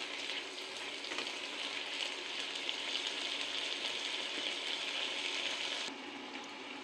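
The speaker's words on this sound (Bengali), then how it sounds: "একটু নেড়ে দিই।" Green and dried chillies fry in hot oil with a steady, bright sizzle as they are stirred, close and continuous, dropping slightly softer near the end.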